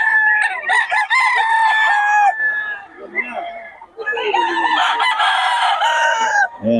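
Pure Golden Boy gamecock rooster crowing loudly and close, several drawn-out crows in a row, with a voice talking in between.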